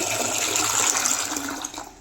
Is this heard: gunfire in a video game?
no